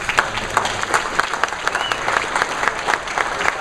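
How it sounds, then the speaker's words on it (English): A crowd at a political gathering claps for the sheriff, continuous applause with sharper individual claps popping out across nearly four seconds. "I don't know why you're clapping for me."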